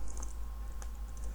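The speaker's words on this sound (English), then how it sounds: "then you can type date" A short command is typed on a computer keyboard, with a few quiet, separate key clicks spaced irregularly over a low background hum.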